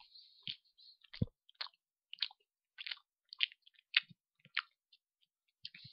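Close, quiet chewing of marzipan stollen, with soft moist bites and small clicks of the mouth recurring in an uneven rhythm against near silence.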